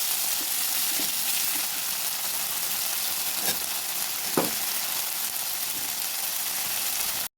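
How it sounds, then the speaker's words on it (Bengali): Onion, garlic and ginger fry in hot oil in a pan for a fish curry, giving a loud, continuous crackling sizzle with a couple of brief clinks, and no one speaking. "পেঁয়াজ রসুন আদা আমি তেলের মধ্যে দিয়ে দিয়েছি"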